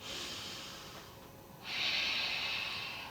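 Steady breathing held through a yoga pose in a dynamic warm-up: a soft airy exhale, a brief pause, then a louder, fuller breath, close and with no talking.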